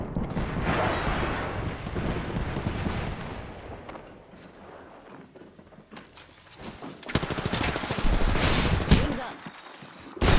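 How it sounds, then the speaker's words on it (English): Gunfire in the video game Apex Legends, Season 26 ranked play: sustained bursts of rapid shots and crackling fire, loud and dense at first, easing midway, then intensifying again near the end. "I can hear gunfire right here."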